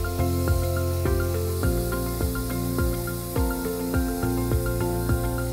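Water mixed with pink antifreeze running from the hot tap of a Trailblazer RV during winterizing, a continuous hissing spray with a steady tonal pump hum and repeated clicking underneath.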